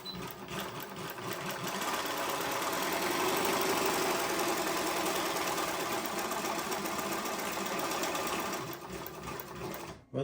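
A Global WF 1575 cylinder-arm walking-foot sewing machine, an extra-heavy-duty model with a silent motor, stitches heavyweight material in one continuous, steady, rapid mechanical chatter up close, running unbroken before stopping at the very end.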